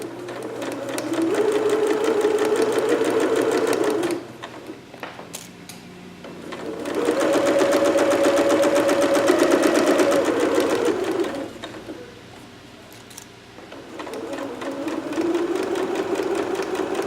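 A sewing machine stitches a dart in steady, loud runs of rapid needle strokes, pausing briefly between passes for back stitching before resuming.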